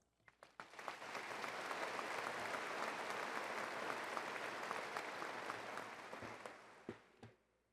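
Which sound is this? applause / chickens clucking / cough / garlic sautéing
applause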